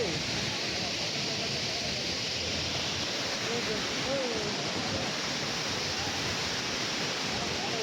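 Large waterfall in Kerala, a dense, unbroken rushing roar of falling water that stays loud and steady throughout, with faint voices in the background.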